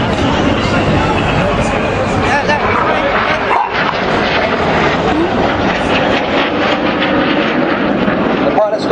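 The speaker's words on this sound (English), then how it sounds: "You can hear that in their engines." Red Arrows jets at full power during a 6G carousel manoeuvre at the Blackpool Air Show, a loud continuous roaring engine rush throughout, with crowd noise beneath.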